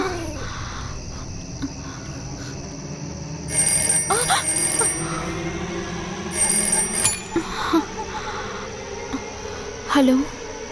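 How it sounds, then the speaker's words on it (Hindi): Telephone ringing inside a very old house, heard as bright repeated bursts of electronic ringing in several spaced bouts over a steady background hum, with a brief voice near the end. "अरे फोन रिंग कर रहा था।"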